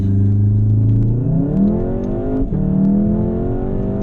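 A 500HP VW Golf 7R pulls hard under acceleration, its engine and exhaust roaring loud and close, with the pitch climbing steadily through the gears and one brief dip at a shift.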